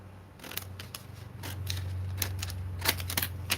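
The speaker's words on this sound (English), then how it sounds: "I'm going to go ahead and just trim this one" Small scissors trimming cured UV resin dragon ear wraps, a series of crisp snips spread over a few seconds above a steady low hum, close and fairly quiet.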